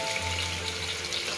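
Finely chopped onion dropped into hot oil, a steady close sizzle and crackle of frying that holds at a constant level throughout.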